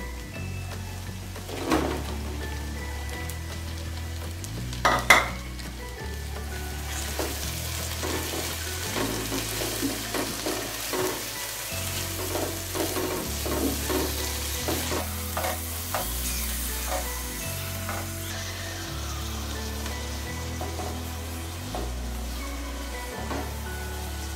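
Tomatoes and green chilies frying in a pan for a bhindi dish, a continuous crackling sizzle like light rain, with stirring scrapes and a couple of sharper knocks of a spoon against the pan, close, no talk.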